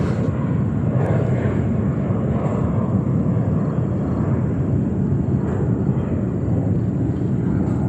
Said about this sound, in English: We have Singapore flight 26 from Frankfurt, Germany coming in a 777-300.